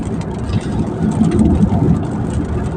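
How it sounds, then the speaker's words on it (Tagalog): Steady heavy rain drumming against a car driving on the NLEX expressway in the Philippines, with a low road rumble underneath, close and continuous without a break. "hindi na to ambon lang talagang ulan na yata to"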